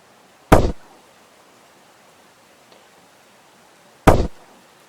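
Gunfire in the video game Teardown: two sharp, loud single shots about three and a half seconds apart, each with a short decaying tail, over near silence and with no talk.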